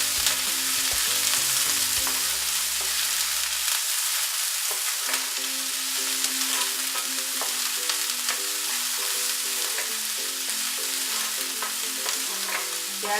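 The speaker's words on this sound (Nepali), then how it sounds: "प्याजलाई हल्का ब्राउन हुने बेलासम्म हामी फ्राई गरौँ।" Onion fries in a pan until lightly browned for a tomato and green pea pickle, a loud, continuous close-up sizzle with a spoon stirring and scraping throughout, no talking.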